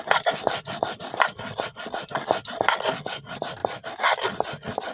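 Cumin and dried chili are ground into paste on a stone slab, a rough rhythmic rasping scrape repeating quickly back and forth, close and loud with no talk.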